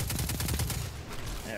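Rapid bursts of gunfire in Destiny 2, a dense run of repeated shots crowding the first second before thinning out, loud and close with a busy game mix underneath.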